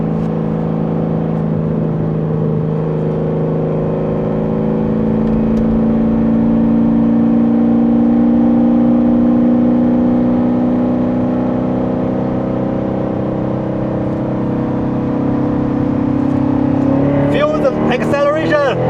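A Chevrolet C7 Corvette accelerates onto a highway, its engine a loud, continuous drone that rises steadily in pitch, heard from inside the car, with a short burst of other sound near the end.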